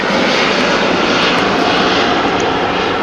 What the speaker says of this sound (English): Sorry, another airplane.